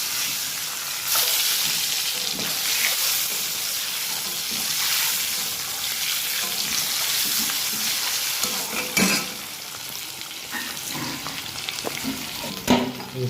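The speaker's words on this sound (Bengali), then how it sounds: "একটু হলুদ দিতে হবে, ভালো করে মাখিয়ে নিতে হবে। মাখিয়ে ভাজতে হবে হালকা হালকা করে।" Eggs coated with turmeric fry lightly in a pan, giving a steady sizzle broken by scraping and stirring sounds, with a few sharper clinks near the end.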